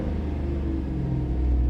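Car engine held at revs during a diagnosis of a dirty mass air flow sensor: a steady, loud, low rumbling drone heard up close and alone, with a slight rise near the end.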